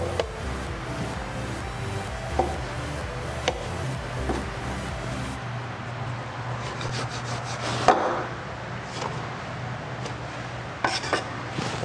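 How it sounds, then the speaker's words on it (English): Bench scraper cuts through cranberry orange scone dough on a kitchen work surface, giving soft scraping and rubbing strokes with a few sharper taps and knocks at irregular intervals. "Now you can use a bench scraper to kind of cut these up a little bit."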